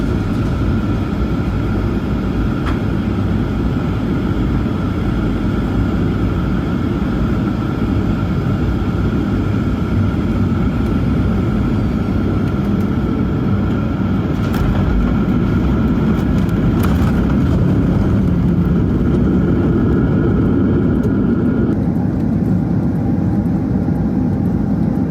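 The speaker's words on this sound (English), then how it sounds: "The landing was a pretty uneventful landing on runway 32 right." Inside the cabin of a Malaysia Airlines Boeing 737 landing at Kuala Lumpur on runway 32R, a steady loud engine roar and airflow rumble fill the scene, with brief thumps and shifts in tone partway through.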